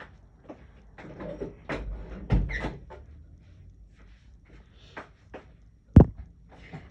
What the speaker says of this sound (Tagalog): Sandali, lock ko lang yung pinto.